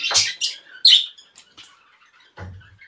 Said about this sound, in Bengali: দেখেন এটা আপনার ইয়েলো ফিশার